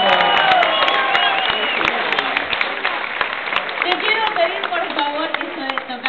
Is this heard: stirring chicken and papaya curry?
no